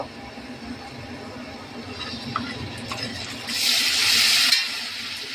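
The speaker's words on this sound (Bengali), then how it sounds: "মশলাটা খুব ভালো করে কষে নেব" Masala with ginger, garlic, chili powder, sugar and salt fries in a pan, a quiet crackle with light stirring that swells into a louder hissing sizzle near the end.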